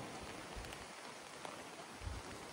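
Rain falls on Boracay Island near Station 1 in light wind, a faint, steady hiss of drops with a few soft low thuds.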